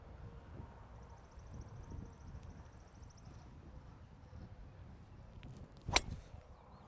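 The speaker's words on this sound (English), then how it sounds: "This wind might be a little difficult." Wind blows across a golf course at Fillmore Fairways as a faint, low rush, with one brief sharp gust or knock near the end.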